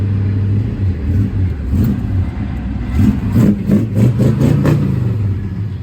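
A 1962 Chevrolet Nova convertible engine idles with a low, steady rumble, then revs in a few quick bursts that grow louder toward the end.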